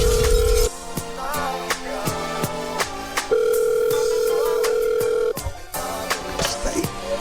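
A telephone ring tone in a radio comedy skit sounds as two long, steady electronic tones over a thumping music beat, loud and close.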